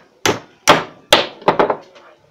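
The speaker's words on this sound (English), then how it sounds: "I just tap it with a hammer" A hammer taps a drill chuck mounted on a slotted piece to loosen it, five sharp metallic strikes close up, three spaced evenly and then two in quicker succession.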